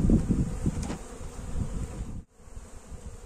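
Honeybees buzz at a beehive in a dense, close, continuous hum, with a slight drop in level near the end.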